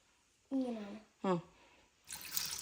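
Brief voiced murmurs, then a splashy rush of tamarind water being poured close by into a fish curry for the last moment.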